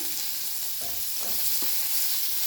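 Green chillies and onion fry in a pan with a steady, quiet sizzle and a few soft scraping stirs, with no one talking.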